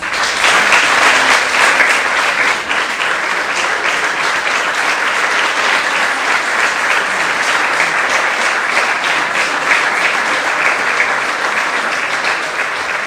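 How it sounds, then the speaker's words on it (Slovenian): Loud, sustained applause from a large crowd for the teaching staff at a school's 70th anniversary ceremony, dense steady clapping that holds at full strength for the whole stretch with no talking over it. "Zaslužijo si močan aplavz."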